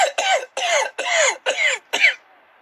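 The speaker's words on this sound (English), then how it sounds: "I need something for a sore throat and can't stop coughing" A man with a sore throat coughs five times in a quick, harsh, evenly spaced series, then gives a shorter final cough. The coughs are loud and close, with no talking between them.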